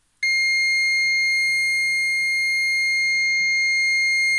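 A multimeter's continuity beep sounds while probing a Samsung TV board that stays on standby with a blinking LED. One steady, clear high-pitched electronic tone starts abruptly and holds unbroken, with faint handling noise beneath.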